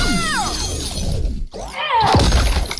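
Ice shattering for Frost's fatality in the video game Mortal Kombat 11, with loud continuous crunching and cracking shards, a brief drop in the middle and then a renewed burst of breaking ice and crackling debris.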